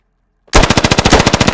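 Automatic gunfire in the infantry combat game SQUAD: after a moment of silence, a loud, close burst of about a dozen rapid, evenly spaced shots rattles out.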